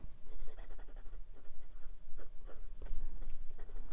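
A Hongdian N23 fountain pen with an architect nib writes on paper, giving a close, steady scratchy drag of repeated strokes with slight feedback and short pauses between them.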